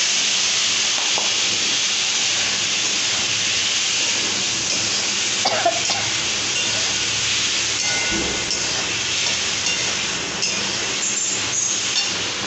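Cumin and ginger paste going into a hot pan and sizzling, a steady loud hiss that fills the whole stretch with occasional faint clinks of a utensil.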